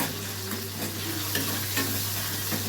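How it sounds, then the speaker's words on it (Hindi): Food frying and being stirred in a pan in a home kitchen, a steady close sizzle with scraping stir strokes running throughout, no voices. "साथ के साथ ही मैंने फ्राई भी कर देंगे"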